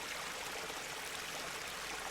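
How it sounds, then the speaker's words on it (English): A river flows in a steady, full rush of moving water while a person gently scoops some up, the sound close and continuous with no voices. "He gently scoops the water from the river"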